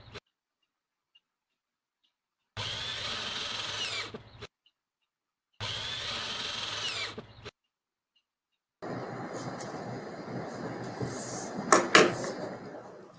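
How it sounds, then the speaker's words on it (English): A power drill bores pilot holes into wood for a standing raised garden bed, three separate loud whirring bursts of a few seconds each, close by, the last one rougher and mixed with clatter. "Drill your pilot holes."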